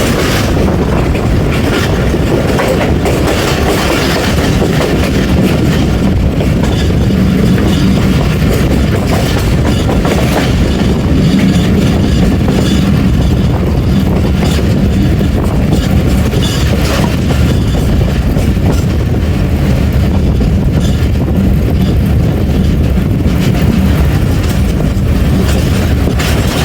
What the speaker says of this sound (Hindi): धोमकल रेलवे स्टेशन से स्लो स्पीड में पास होगी हमारी 13 अप अवाम एक्सप्रेस